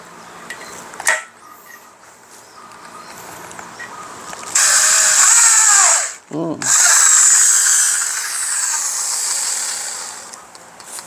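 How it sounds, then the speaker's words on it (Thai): A power drill whines in bursts while drilling through metal for a welded table, briefly stopping and restarting, loud and close, with faint clicks and hiss around it. "เจาะทะลุก่อน"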